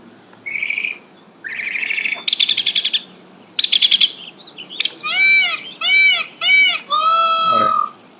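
Recorded bird songs play back from an app in sequence, starting with short high chirps, moving into rapid trilled bursts, and ending with clear whistled, swooping calls. They are loud and close, heard without talk.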